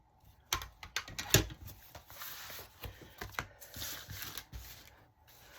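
Paper being trimmed for a folio flip journal insert, close up: a quick run of sharp clicks, snips and rustles in the first half, then lighter scattered taps and handling noises.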